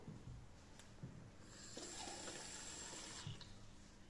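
Water is poured into a glass for a layered three-colour density experiment, a soft steady trickle that swells in the middle and then tapers, faint and close with no talking.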